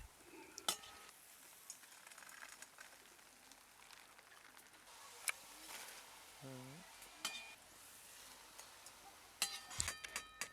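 Semolina pithe frying in hot oil, a faint steady sizzle with scattered light clinks and stirring taps throughout, no voices.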